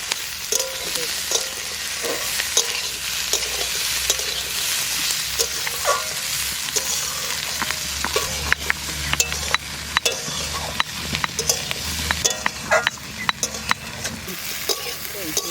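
Cumin seeds fry in hot oil with a steady, crackling sizzle, while a spoon stirs and scrapes the pan in frequent sharp clicks, loud and close throughout with no talk.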